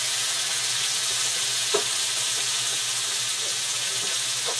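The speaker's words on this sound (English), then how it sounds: "we're going to sear this in that butter" A beef roast searing in hot butter gives a loud, steady sizzle and hiss close up, with one sharp crackle partway through and no voices.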